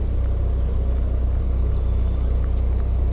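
Steady low engine drone of a fishing motorboat on the water, continuous and fairly loud with no pauses.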